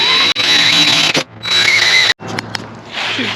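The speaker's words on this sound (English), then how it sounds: "Drilling out the corners." A power drill bores out the corners of a traced hole for recessing an electrical box, whining in loud sustained bursts with brief pauses between them, close up.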